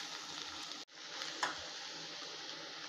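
Keerai greens tipped into hot oil with popped mustard seeds for a traditional South Indian keerai poriyal, giving a close, steady sizzle that cuts out for an instant, then resumes with a small pop and carries on evenly.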